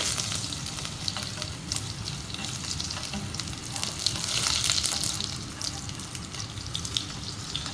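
Garlic frying in a pan for red braised elk in wine, a steady crackling sizzle with sharp spits and pops and a louder surge of hissing partway through, no talk.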